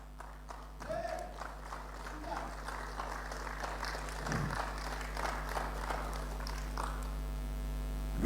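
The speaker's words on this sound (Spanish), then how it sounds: "Gracias a Cristo que usted le aplaude" A congregation claps during a sermon, the applause building gradually over a constant electrical hum, with a few brief voices rising from the crowd along the way.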